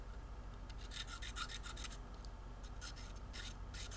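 Faint, intermittent scraping strokes from a marking knife clearing old brown aliphatic or PVA glue off the ABS binding of a Martin HD28 guitar, with short rasping bursts and brief pauses.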